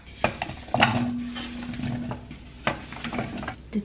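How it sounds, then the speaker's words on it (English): A knife chops mushrooms on a board with a few sharp, irregular knocks, sounding close against a faint background hum. "And then I'll just chop this all up into reasonably thin pieces."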